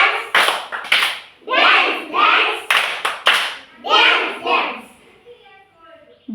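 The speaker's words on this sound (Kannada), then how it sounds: "ಡ್ಯಾನ್ಸ್ ಚಪ್ಪಾಳೆ" Children at a Nali Kali classroom session perform a dance clap, sharp clusters of hand claps in a rhythmic pattern mixed with their chanting voices, fairly close and loud.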